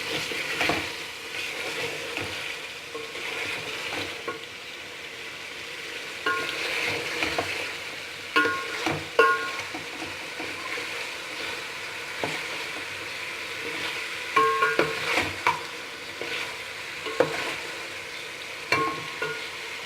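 Ground peeled tomato paste frying in a pan for chicken and potato curry, with a continuous close sizzle and repeated scraping of a stirring spoon, intermittent clinks and knocks, and no talking.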